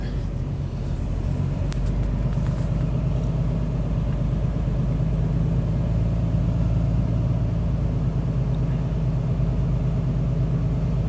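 A truck's diesel engine runs loud and close with a steady low rumble, held at an even level as the accelerator is pressed, with no distinct rise in revs.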